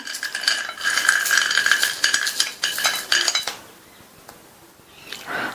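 Roasted peanuts, cooled for a laddu recipe, are rubbed to strip their thin skins, making dense, crackly rustling and light clinking against a dish that fades to near quiet before a brief return.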